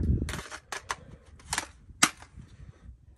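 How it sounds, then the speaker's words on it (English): An AR-15 rifle with a 20-inch KM Tactical marksman upper fires into dirt outdoors, a few sharp loud cracks standing out among quieter handling noises. "We're just gonna do a single shot test fire. We're gonna shoot it into the dirt"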